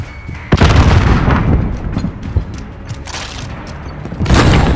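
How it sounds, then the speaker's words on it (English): A grenade blast in Call of Duty: Modern Warfare bursts loudly amid a busy firefight, with booming thumps and rattling gunfire spread through a few seconds of dense battle noise. "Throwing grenade!"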